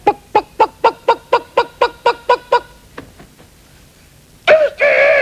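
A man imitates a Rhode Island Red rooster with his voice. First comes a rapid run of about ten evenly spaced clucking bursts, then a few fainter ones, then a loud drawn-out crow near the end. It is close and alone, with no other talk.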